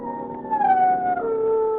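A dog's long, wavering howl, close and clear against a quiet background, rising then gliding down in pitch over a couple of seconds, used as a radio drama sound effect.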